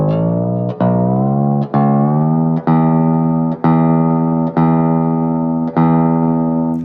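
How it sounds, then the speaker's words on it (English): Electric guitar with an Evertune bridge, a single sustained string note plucked again about every second while the tuning machine turns, the pitch holding nearly level, loud and close with no talking. "So I'm turning the tuning machine, but I'm on that plateau."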